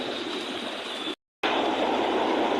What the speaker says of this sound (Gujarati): બે કાંઠે પાણી જાય છે